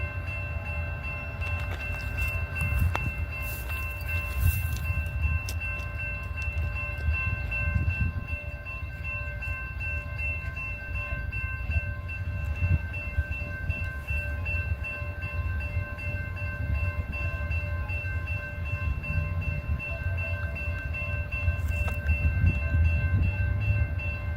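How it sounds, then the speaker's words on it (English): A train rolls slowly toward a station with a deep steady rumble, low rhythmic clatter and a sustained high tonal whine, loud and close for the whole stretch. "Slowly but surely, the train would make it to where I was."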